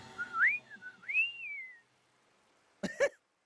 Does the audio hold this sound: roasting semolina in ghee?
no